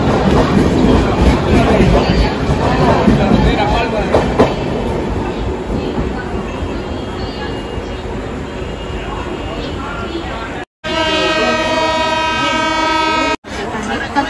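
A train arriving from Karaikal rumbles past close by as it departs a station in Gujarat, its wheels clattering steadily as it moves away, with a long horn-like tone near the end.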